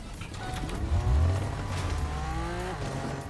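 A Lamborghini engine in Fortnite revs and accelerates with tire noise, a loud, close, continuous drone that rises and falls in pitch.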